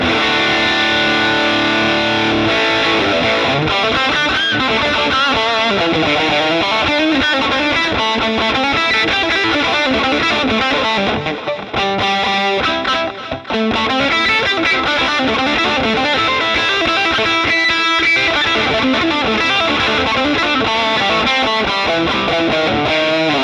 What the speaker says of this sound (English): We'll try that with the distortion pedal.